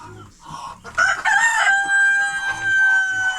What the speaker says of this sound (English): there's a mother hen right there